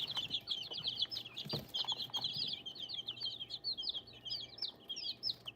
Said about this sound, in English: There's quail and chicken chicks in here.